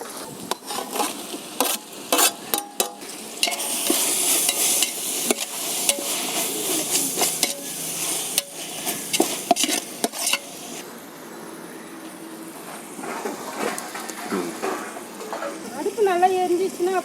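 A masala of tomato, onion and ginger-garlic paste fries in a pot, with a soft continuous sizzle under repeated scraping stirs of a ladle against the pot; a person talks throughout.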